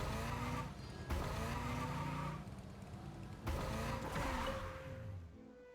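A car engine revs hard at full throttle in a video game, a loud sustained roar with pitch sweeps as it shifts gears twice, alone with no talk.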